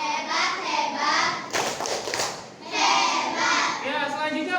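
A classroom group claps in bursts with children's voices chanting and cheering in Indonesian between and over the applause, lively and close in a room.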